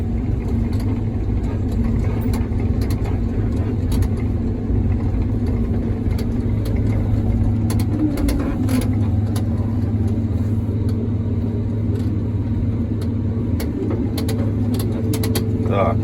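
A tractor engine runs steadily at a sunflower harvest, a loud, close, continuous low rumble and drone with faint clicks on top and no change in pace.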